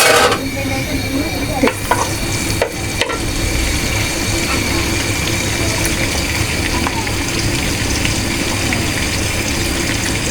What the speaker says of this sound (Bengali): পেঁয়াজটা দিয়ে দিছি